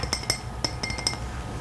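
Glasses clink as a drink is prepared during a quiet Polish-language ASMR roleplay, a handful of bright, close taps in irregular succession over a soft background.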